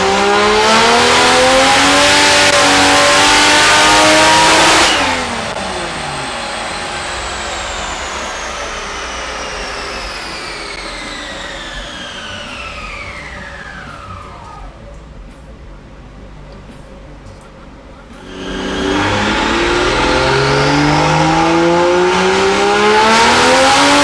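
A Toyota 2JZGE Supra engine on high boost screams through a dyno pull, winding up loudly, then dropping off and fading before revving hard again near the end.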